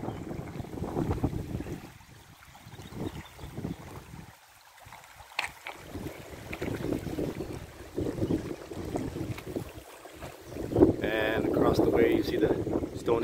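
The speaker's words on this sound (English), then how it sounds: "It's very windy" Strong wind buffets the microphone beside a river in Oldcastle, a loud continuous roar with rushing gusts, while someone talks over it.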